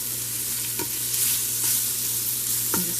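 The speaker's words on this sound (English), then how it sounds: "I'm just going to brown this up" Beef browns on an Instant Pot's saute setting in a continuous, dense sizzle, with a couple of soft utensil taps over a steady hum.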